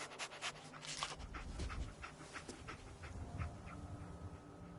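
Dogmeat, the dog companion in Fallout 4, panting quickly in soft rhythmic breaths, close but quiet, with small whimpering snuffles.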